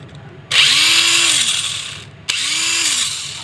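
A mini 4WD Project D gearbox motor whines and buzzes roughly at a high pitch, rising then slowing, twice in a row with a brief gap, close and fairly loud.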